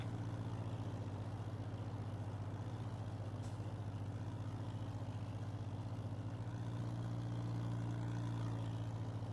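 Tractor engine in the Farming Simulator video game, a steady low idling drone that holds evenly and fairly loud throughout, alone with no talk.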